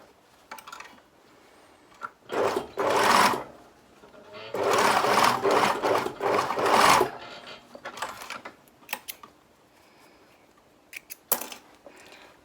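A domestic sewing machine stitches a garment cuff in several short bursts of whirring, two long runs and a few brief stops and starts, close and clear with no talking.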